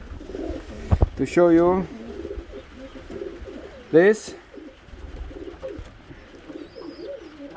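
Pigeons cooing in a sport pigeon loft with young chicks, a few throaty warbling coos rising clearly above soft rustling while someone talks nearby.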